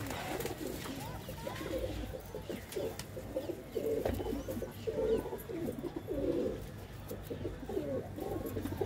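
Pigeons cooing at a pigeon sale in Ludhiana, soft repeated low coos in a loose rhythm, fairly quiet and close, with faint ambient background and no talking.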